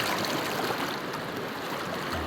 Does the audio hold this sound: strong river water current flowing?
yes